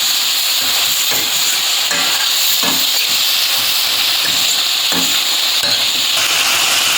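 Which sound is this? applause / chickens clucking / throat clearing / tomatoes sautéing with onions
tomatoes sautéing with onions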